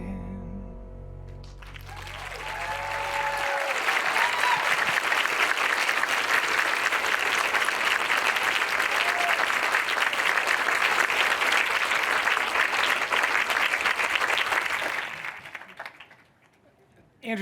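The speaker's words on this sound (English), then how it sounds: "How about one more round of applause?" Applause from an audience at a university presidential investiture ceremony follows a musical performance, swelling into sustained, dense clapping for over ten seconds before fading out, with a voice briefly heard at the start.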